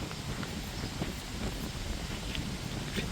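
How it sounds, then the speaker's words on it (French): Wind blowing outdoors in a parking spot in Orléans on a cold day, a steady low rushing buffet with faint rustling throughout, no voices. "Il fait du vent."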